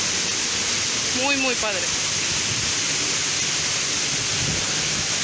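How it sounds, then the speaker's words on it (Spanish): Water from a waterfall in Chiapas pours and sprays in a steady broadband roar while standing inside the falling curtain, loud and close throughout, with a person briefly talking over it. "Ahora sí ya estamos en la cortina de agua."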